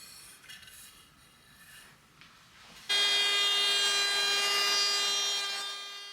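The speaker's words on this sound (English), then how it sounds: "In order to not knacker out the motor of this router, I'm going to have to make lots of smaller passes" A small handheld router makes shallow cutting passes in wood during hand joinery for a casement window. It starts with quieter rubbing and scraping, then a loud, steady high motor whine with a strong tonal hum sets in and holds.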